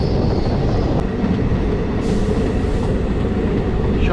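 A passenger train running on the route from Pakistan to Amritsar in Punjab at dusk, heard from on board as a loud, steady rumble with wheel and carriage noise throughout.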